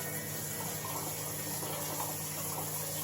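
A kitchen sink sprayer rinsing snapped green beans in a colander gives a steady, even rush of spraying water, close and constant throughout, with no talk.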